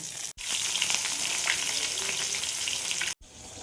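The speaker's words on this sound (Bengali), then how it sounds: "এইভাবে সব মাছগুলো আমি ভেজে নেব।" Pabda fish fry in hot oil with a bright, steady sizzle and crackle, broken by two brief silent gaps.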